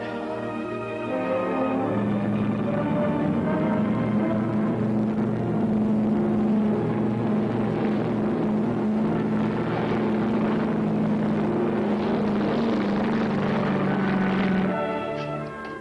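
Aircraft engines on an Air Cathay plane turn over and settle into a loud, steady propeller drone that holds for most of the clip before cutting off near the end, with no voices.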